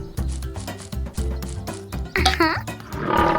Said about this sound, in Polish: To był dźwięk lwa!